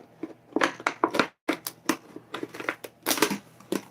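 Scissors snip rapidly through a squashed flat plastic container being cut down into a garden planter, a close run of sharp crunching cuts with crinkling plastic and one short pause.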